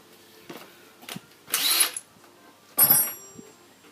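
A power drill whirs in short bursts, two longer runs among brief taps and clicks, close by with no talking.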